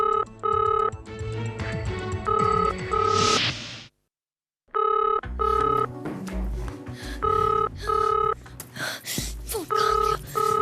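Electronic telephone ringing in repeated bursts of bright, melodic tones, stopping briefly before resuming, with some background noise layered in.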